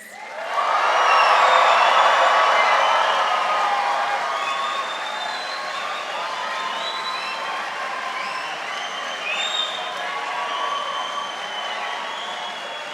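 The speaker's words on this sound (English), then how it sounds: "Family and friends, can you make some noise for the class of 2026?" A large crowd of family and friends at a college convocation cheers and applauds loudly, swelling at the start and then settling into sustained whoops and clapping that continue throughout.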